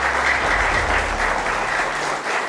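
Studio audience applause on a television talk show, a steady, moderately loud sheet of clapping filling the whole stretch.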